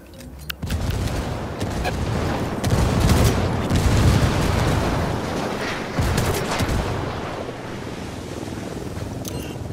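A frag grenade blast and sustained gunfire from Ghost Recon Wildlands roar as a dense, loud wash of noise with sharp cracks, rising after an opening crack and lingering for several seconds without speech.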